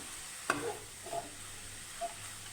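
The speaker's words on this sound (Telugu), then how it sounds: "అందుకని గరిట పెట్టి కలుపుకుంటూ ఉండాలి" Grated carrot fry stirred with a ladle in a pan: a sharp knock of the ladle followed by a couple of soft scraping strokes over a faint, steady low sizzle, quiet overall.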